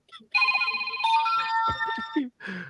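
An incoming call sets off a phone ringtone: a sustained electronic tune that rings steadily for about two seconds, then cuts off, with a person speaking over the ringing near its end.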